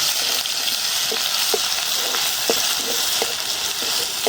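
Chopped garlic sizzling in a pan, a loud, steady hiss with a few small pops breaking through, heard close and alone.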